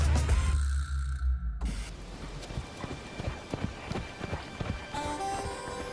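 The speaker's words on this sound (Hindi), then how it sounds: "ये आवाज हूफ बीट्स की तरह लग रही है ना?" Horses' hooves thud in a quick, uneven rhythm of close, sharp clip-clops for several seconds, following a brief low rumble and a sudden cut, with a faint tonal sound rising at the end.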